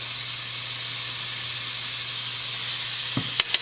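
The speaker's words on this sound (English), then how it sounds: "We're going to get that sauteing up in this residual butter." Minced garlic sautéing in residual butter left from browning chicken, a loud, steady hiss of frying close up, ending with a couple of brief utensil clicks against the pan.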